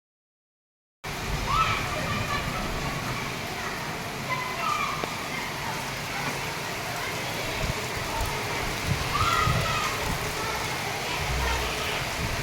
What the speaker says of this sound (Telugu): వర్షమేమో ఇప్పుడు స్టార్ట్ అయిపోయింది